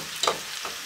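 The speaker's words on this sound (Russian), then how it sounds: "Выкладываем фасоль. Хорошенько размешаем." Green beans stirred into a pan of boiling tomato, giving a brief soft scraping stir and a light sizzle, close and fairly quiet.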